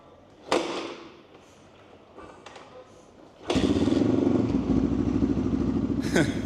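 A Geon motorcycle engine, its motor suspected of seizing, is cranked: a sharp thump, some faint clatter, then a loud sustained rough churning for several seconds, close by, ending with another sharp knock.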